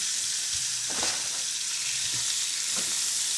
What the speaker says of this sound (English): I'm just searing them, and then I'm going to drop in the oven and cook them off